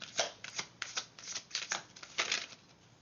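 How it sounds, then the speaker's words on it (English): Tarot cards riffled and shuffled by hand in quick, uneven bursts of papery flutters, close and fairly soft with brief pauses between. "My shuffling is getting better."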